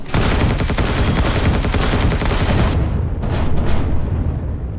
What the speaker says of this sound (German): ich habe ja auch zwei Explosionen gehört gerade